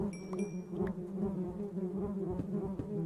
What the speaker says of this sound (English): I hear the bees.